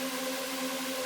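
A synth lead patch built in Serum with multiband compression, low and high ends cut back, holding one steady sustained tone with stable harmonics for about a second, alone and moderately loud before cutting off.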